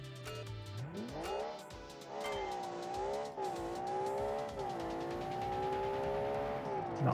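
A 1990s two-door coupe fitted with a Porsche engine accelerates hard through its gears, the engine note rising and falling with each shift, loud and close for several seconds.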